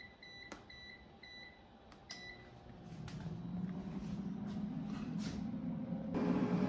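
An air fryer cooks skirt steak at 400 degrees Fahrenheit, starting with a few electronic beeps, then a fan whoosh that swells into a steady, moderately loud whirring hum.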